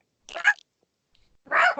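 A dog barks twice, short and fairly close, with a near-silent gap between the two barks.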